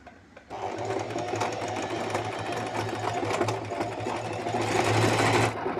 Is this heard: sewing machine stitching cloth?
yes